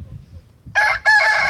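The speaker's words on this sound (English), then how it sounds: "He's about to crow, I bet." A rooster in a backyard chicken pen crows loudly and close by in two quick bursts after a brief quiet moment.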